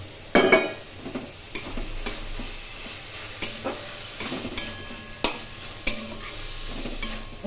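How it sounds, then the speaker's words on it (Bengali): Boiled jackfruit and soybean chunks for a Bengali curry being sautéed in a pan: a continuous sizzle broken by sharp spoon scrapes and stirring knocks at irregular intervals, close and moderately loud, with no talking. "এইভাবে খুব ভালো করে কষিয়ে নিতে হবে।"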